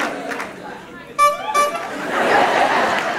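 A crowd of voices briefly mimics a horn with a short, nasal honking call, rising over murmuring chatter in a lively room.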